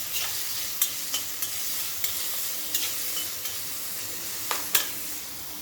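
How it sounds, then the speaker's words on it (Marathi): Green chilli thecha with salt being stirred in a hot pan, a steady loud sizzle under repeated sharp scrapes of the spatula against the metal, close up. "मीठ चवीनुसार जेवढं लागेल तेवढंच घालायचं आहे हलवून घ्यायचं आहे आता"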